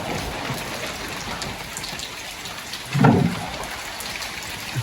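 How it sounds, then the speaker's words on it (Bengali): Heavy rain pouring steadily in a village, a dense continuous hiss of drops on surfaces with a brief louder gush partway through. "প্রচুর জোরে বৃষ্টি পড়ছে"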